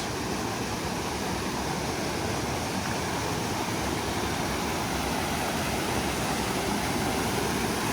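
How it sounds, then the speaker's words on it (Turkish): A waterfall in a canyon flows with a steady, broad rushing roar that stays constant and moderately distant throughout, with no talking. "İşte şelale ileride."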